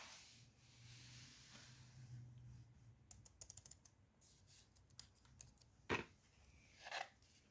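Keys clatter on an HP Pavilion Wireless Keyboard 800 in quiet, uneven bursts of quick clicks, with a couple of louder isolated taps near the end, all faint and close with no talk.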